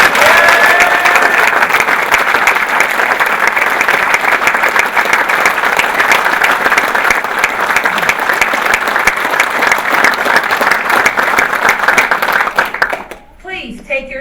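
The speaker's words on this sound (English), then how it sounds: "Let's give our soldiers a warm round of applause." Sustained, dense applause from a large audience at a US Army special operations award ceremony, steady and loud for several seconds before fading out abruptly at the end.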